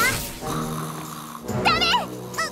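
An animated cartoon character snores while asleep, slow, heavy droning breaths rising into a wobbly whistling tone near the end, loud and close with other characters' voices mixed in.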